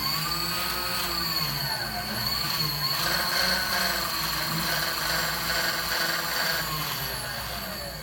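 An AMMCO 7000 brake lathe with a power feed upgrade and gearbox runs steadily nearby, a smooth continuous mechanical whir with a faint high whine and no pauses.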